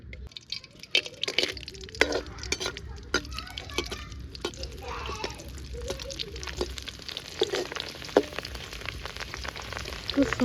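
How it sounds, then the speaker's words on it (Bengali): Papad frying in hot oil in a wok, a soft crackling sizzle with scattered sharp pops and bubbling, faint and steady throughout. "এখন পাঁপড় ভাজবো, তার জন্য তেল দিয়ে দিচ্ছি।"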